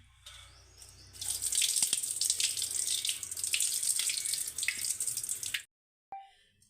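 Barley is rinsed under a running kitchen tap, a steady close rush of water lasting several seconds that stops suddenly, followed by a brief clink.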